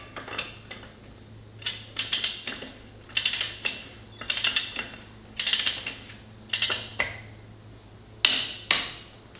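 Ratcheting clicks from a torque wrench tightening the spindle nut on a Mack R686ST truck to 50 foot-pounds come in short bursts of several clicks, with pauses between them, against a steady low hum and no talking.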